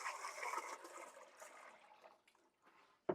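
Water pours and splashes into a pot to make a ham brine with crushed garlic, a faint gushing stream that tapers off, followed by a short sharp knock at the end.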